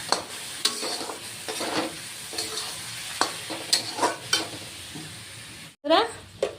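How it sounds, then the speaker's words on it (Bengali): Spiced potato and papaya sauté in a pan with tomato paste, a close, steady sizzle broken by repeated scraping stirs of a spatula against the pan, with one louder clatter near the end. "দিয়ে এখন কষিয়ে নিব"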